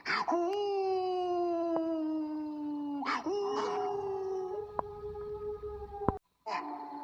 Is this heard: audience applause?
no